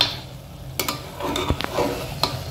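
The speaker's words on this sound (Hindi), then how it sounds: "अब हम इसमें ऐड करेंगे लाल मिर्च पाउडर, इसे अच्छे से मिक्स कर लेंगे" Mutton with turmeric and red chili powder being stirred in a hot pan for curry: several sharp scrapes and clicks of a spoon against the pan over a soft background sizzle, close and fairly loud.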